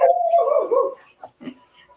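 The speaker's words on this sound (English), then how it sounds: "you hear my dog barking" A pet dog barks in a home kitchen during a cooking chat, a sustained whining bark followed by a couple of short, fainter yips.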